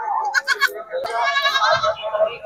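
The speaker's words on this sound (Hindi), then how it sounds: "माशाल्लाह बच्चा बकरी का अच्छा है" A young Sindhi-breed goat kid bleats close by in a few short, wavering cries, with a brief knock between them and some faint background noise.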